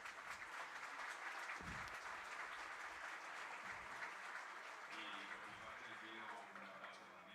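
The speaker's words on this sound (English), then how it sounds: "Please, a big round of applause to the moderator as well." Audience applause at a cybersecurity symposium in Montevideo, a steady broadband clapping that fills the room for several seconds, with faint voices and a low voice-like murmur mixed underneath.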